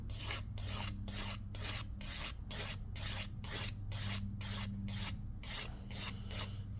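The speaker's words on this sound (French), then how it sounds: "Vous allez voir que le limage, c'est quelque chose." A nail file rasps back and forth over rounded edges of a nail, a steady rhythmic scraping of about two strokes per second, close and even, with a low hum underneath.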